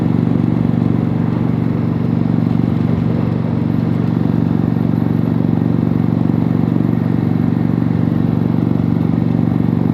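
A motorcycle engine roars steadily and loudly at close range as the rider accelerates to pass on a hot day, a continuous heavy drone with no talking.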